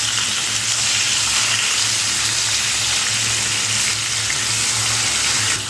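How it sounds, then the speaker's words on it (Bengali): Hilsa fish pieces for mustard hilsa fry in hot oil, one piece added at a time, giving a loud, steady, crackling sizzle that runs unbroken and close up with no talking. "তখন একটা একটা করে মাছ দিয়ে ভেজে নিতে হবে।"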